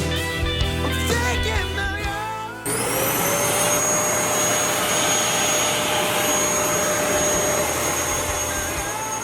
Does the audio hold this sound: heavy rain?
no